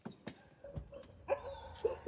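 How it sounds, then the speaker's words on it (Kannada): Dogs bark outdoors in a residential area: a scattered run of short yips and barks at moderate distance, some sharp and some whining, over quiet background noise. "ಎಲ್ಲ ಕಡೆ ನಾಯಿ ಬೊಗಳ್ತಾವೆ."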